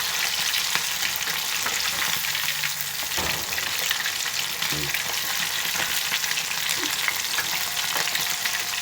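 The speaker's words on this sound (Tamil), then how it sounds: "இப்போ பாருங்கள், கொஞ்சம் நல்லா பொரிஞ்சிடுச்சு." Fish crisp-frying in hot oil crackles and sizzles continuously, close up, with a few soft clunks as pieces are turned, and no voices.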